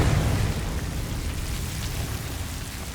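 Confringo spell explosion in Hogwarts Legacy, a heavy booming blast with deep low rumble that stays loud and sustained across the whole moment, with no voices.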